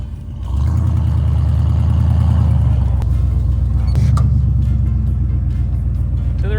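Honda Civic stuck in a blizzard, its engine kicking up to a loud, close, sustained rev after a brief quieter start, holding a rough steady drone with a second surge partway through.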